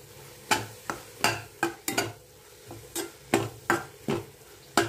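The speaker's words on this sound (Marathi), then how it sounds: "यामध्ये टोमॅटो, मिर्च पावडर, हळदी पावडर, जीरा पावडर, गरम मसाला, चवीनुसार मीठ हे छान मिक्स करून घ्यायचं" Tomato and spice powders being mixed in a pan, heard as a series of distinct, evenly spaced scraping strokes and taps of a spoon against the pan, close and moderately loud, with a faint sizzle between strokes and no talking.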